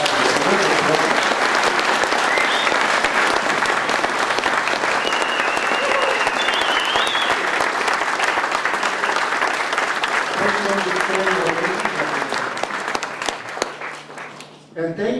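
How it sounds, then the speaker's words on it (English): An audience at a business club meeting of about 118 people gives a long, loud round of applause, dense and continuous, with some voices heard underneath, before it thins and tapers off near the end. "How about a big round of applause for this?"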